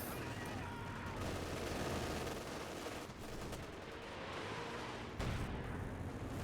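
Long-range barrage in a strategy game, a continuous rumble of distant gunfire and artillery with a sharper burst near the end; voices are faintly present underneath.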